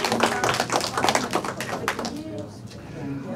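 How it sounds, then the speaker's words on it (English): Funeral congregation clapping hands in church, a rapid dense patter of many claps close by, with voices talking over it before the clapping thins out. "y'all clap your hands, everybody. Clap your hands."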